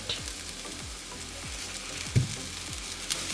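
Breadfruit curry sizzling in a pan as it is stirred, a continuous frying hiss with soft rhythmic scrapes and a couple of spoon knocks against the pan, close by with no voices.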